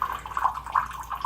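A small stream of water runs from a DIY water filter, a steady, close trickle with light bubbling lasting only a moment.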